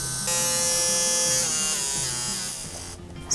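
An Airsee electric nail drill hums along quietly at a steady pitch, a thin high whir that dips slightly before stopping, followed by a faint click.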